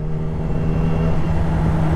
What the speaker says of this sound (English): I'm waiting for an open stretch of road right now and just ring through the gears